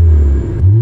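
Tesla electric car playing a simulated exhaust note through speakers mounted in the bumper, a short loud low rumble that dips briefly and swells again, close by, with no talking.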